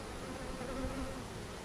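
Honey bees buzz softly and steadily around a top bar hive, a faint, even drone with no other sounds.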